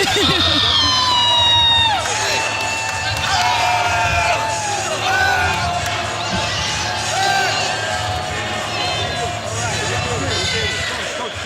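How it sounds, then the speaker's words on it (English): A boxing arena crowd cheers, whoops and shouts loudly and continuously at a professional fight, with a commentator's voice talking over the noise. "The crowd is loving it."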